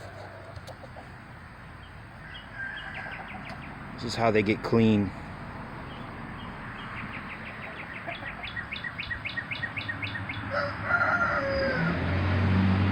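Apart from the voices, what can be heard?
chickens clucking and crowing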